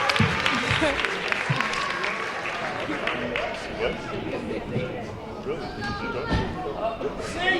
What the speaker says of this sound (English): Let's give her a round of applause as she makes her way to the stage